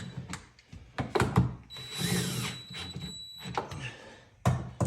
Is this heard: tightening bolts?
yes